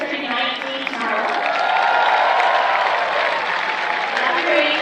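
Crowd at a Victoria HarbourCats vs Cowlitz Black Bears baseball game applauding for a birthday, sustained clapping and cheering that swells and holds across the whole stretch, fairly loud and dense.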